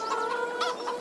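Chickens cluck steadily and close by in the farming game Farming Simulator 22 on PS5, with overlapping hen calls filling the short moment and no talk.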